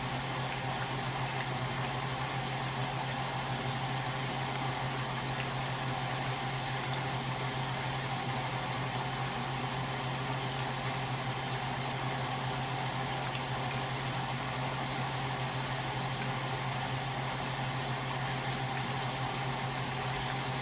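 Falafel balls deep-frying in hot oil give off a steady, even bubbling hiss that holds unchanged throughout, with a low hum underneath and no talking.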